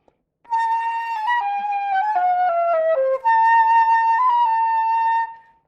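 A flute played with a rolled-in embouchure gives a thin, pinched tone across a slow phrase of sustained notes that dips lower midway, then returns higher after a brief break.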